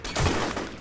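Enemy gunfire in the shooter FEAR crackles as a short, sharp burst of shots that is over in under a second.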